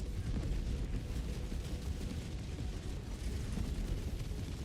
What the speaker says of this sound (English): So I'm going to call down an orbital Gatling barrage on it